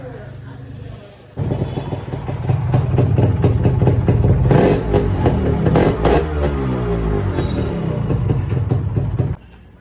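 A motorcycle that sat unused the previous day is started up close; the engine catches and runs loudly, idling with uneven revs and throttle blips for several seconds before shutting off.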